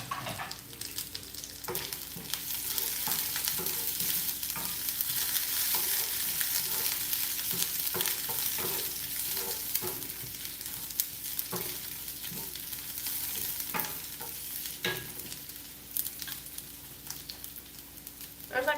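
Thirds of scallion and large garlic pieces sizzle in a hot pan, a continuous close frying crackle with bursts of popping and spatter, no talking over it.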